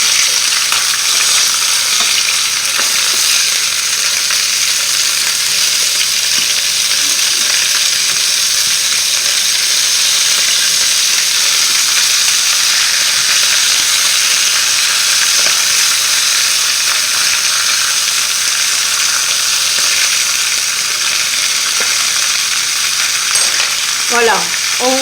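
Chicken pieces for a coconut curry dish fry in a pan after being turned, giving a loud, continuous sizzle and hiss that holds evenly throughout with no talking.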